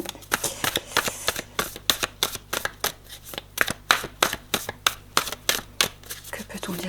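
Tarot cards are shuffled by hand close up in a quick, regular run of crisp riffling bursts, about two per second, with a faint steady hum beneath.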